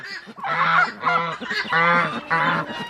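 Geese and ducks honk loudly and repeatedly up close, four bursts of harsh calls in quick succession with brief gaps between.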